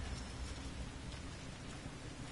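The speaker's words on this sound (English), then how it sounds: "Here comes the rain." Rain in the video game Resident Evil Revelations 2, a dense, continuous hiss of downpour on surfaces with a low rumble beneath, steady and enveloping, without voices.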